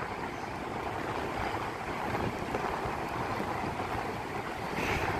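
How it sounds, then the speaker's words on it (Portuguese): Rough sea waves roll in at a beach in Itanhaém, a continuous broad roar of surf mixed with wind noise, steady and fairly distant, with a slight swell near the end and no talking. "Marzão bem agitado, bem mexido, meus amigos. Umas ondas grandes lá no fundo."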